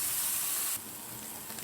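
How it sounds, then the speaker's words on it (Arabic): Grated onion and minced garlic sautéing in ghee, giving a steady close sizzle that is louder and brighter at first, then settles to a softer hiss. "بصله مبشوره وكمان فصين توم مفرومين، هنزل بيهم كده يتشوحوا معايا"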